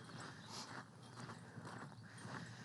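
Horse hooves clip-clop at a ranch as the horses are readied, a quiet, steady series of hoof knocks on the ground over a faint outdoor background.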